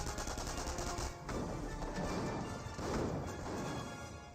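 Grenade blasts and gunfire crack and rumble in a Company of Heroes battle, with bursts of shots and heavy impacts layered into a dense, continuous combat din.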